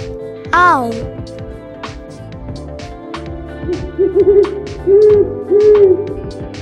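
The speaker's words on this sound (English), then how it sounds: "Owl." Hooting owl calls come in a few short, clear notes in the second half, preceded by an earlier swooping sound, all set against bright, continuous children's background music.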